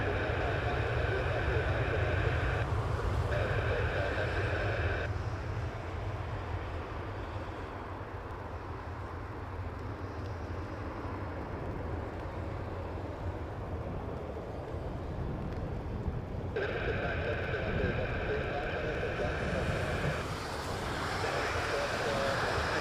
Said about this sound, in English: Off goes the Embraer.